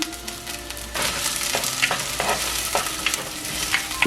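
Onion and green chili sauté in hot coconut oil in a pan, a steady close sizzle with repeated stirring scrapes and clinks of a spoon against the pan throughout.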